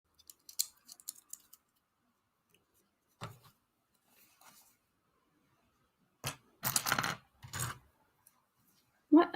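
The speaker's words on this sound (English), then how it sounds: "I don't know how loud it is when I'm clicking on the comments." Computer mouse clicks while reading comments during a live Lego building stream of modular set 10255, Assembly Square: sparse sharp clicks in small bursts with quiet gaps, close and fairly faint.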